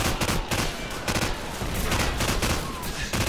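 A light machine gun in Call of Duty: Modern Warfare fires rapidly and continuously, a loud, steady stream of close shots with no pauses.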